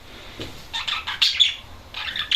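Cockatiel parrot calling in a hobby garden aviary, a run of sharp, high chirps and squawks repeating in quick bursts, close and fairly loud with no talking.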